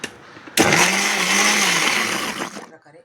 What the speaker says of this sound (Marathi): आता आपण मिक्सरच्या जारमध्ये टाकत आहोत आणि वाटण करून घेणार आहोत थोडं थोडं।